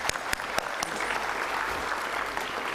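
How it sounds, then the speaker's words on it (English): An audience applauds actor Jackie Shroff at the inauguration of the new Sankalp campus. Dense, steady clapping fills about three seconds, with a few sharp, close claps standing out at the start. "A big round of applause for Shri Jackie Shroff."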